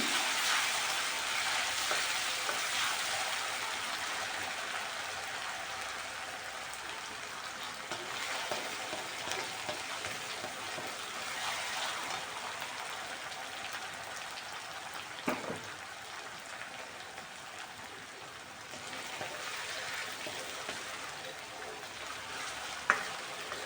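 Garlic and onion frying in a pan, a steady close sizzle that keeps going for the whole stretch, with occasional light stirring clicks and no talk over it.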